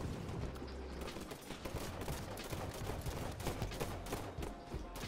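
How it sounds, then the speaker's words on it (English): Rapid bursts of automatic gunfire rattle almost continuously in a Halo 5 Warzone match, dense and fairly quiet, with no talk. "Where should I shoot? I'm just shooting randomly."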